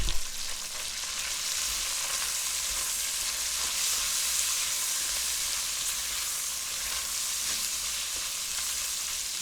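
Bacon fries in a pan, a steady close sizzle with crackling and spitting that carries evenly throughout, no voices.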